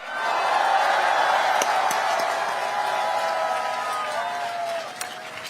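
Large outdoor crowd at a packed Ulsan presidential campaign rally applauding and cheering, a dense, sustained roar of clapping and voices that holds steady for several seconds before easing slightly at the end.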